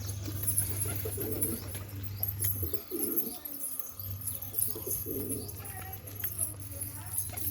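Pigeons in a loft give soft, intermittent coos over a steady low hum, with a brief drop in the background partway through.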